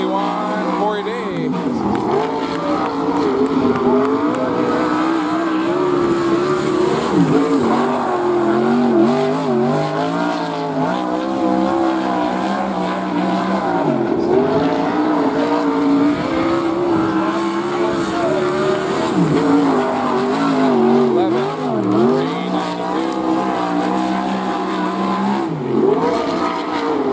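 Western sprint race cars roar around a dirt speedway at night, engines droning loudly and continuously with rising and falling pitch as they lap, while an announcer talks over the noise.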